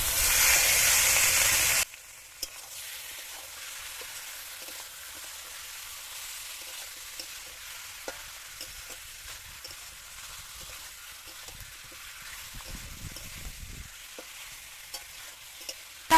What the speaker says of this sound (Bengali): এবার এর মধ্যে ম্যারিনেট করা মাংসটা দিয়ে দেবো।